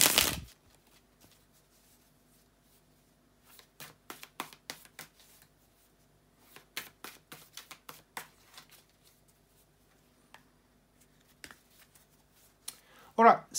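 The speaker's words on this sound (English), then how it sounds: "bear with me just a second, guys, to shuffle the tarot cards" Soft papery riffles and taps of tarot cards being shuffled come in short bursts with quiet gaps, close by, and a brief louder rustle at the start and end.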